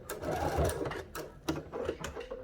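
A domestic sewing machine back stitching a cathedral window quilt panel, short close whirring runs of rapid stitches broken by brief pauses, fairly quiet and without talk.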